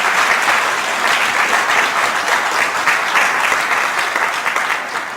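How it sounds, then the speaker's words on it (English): Loud, sustained applause from a conference audience after a talk on segregation and Black Lives Matter, a thick continuous wash of many hands clapping at full strength for several seconds, tapering slightly at the end. "let's give a round of applause for that powerful and important"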